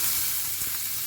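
Mustard seeds and curry leaves sizzle in hot oil with a steady, bright hiss and a few faint crackles, heard close up and alone.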